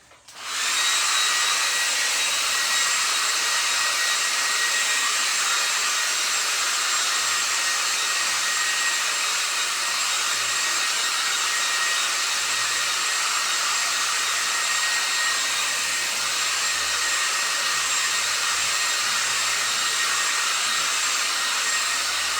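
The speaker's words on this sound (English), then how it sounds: "Oh, dryer. There it is." A hair dryer blows steadily on a painting, a loud, close, continuous airy whoosh that starts abruptly and runs unbroken with no voices.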